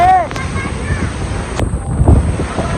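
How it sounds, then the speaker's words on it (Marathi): Strong wind gusting at a waterfall, a loud constant roar buffeting the microphone, with a voice briefly heard over it. "वारा जाम आहे वारा आहे बघा कॅमेरावरती"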